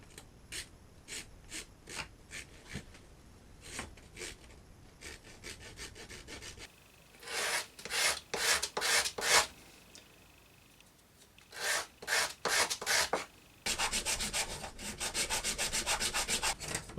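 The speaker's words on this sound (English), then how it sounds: "I'll just carefully with the rasp start removing the" A rasp filing a hardwood lure master, close rhythmic scraping strokes, some short and spaced, then faster longer bursts and a continuous run at the end, no talking.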